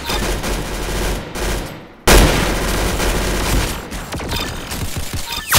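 Rapid bursts of automatic gunfire in the Roblox game Arsenal, loud and close, with overlapping shots and a brief pause before another heavy volley, with no voices.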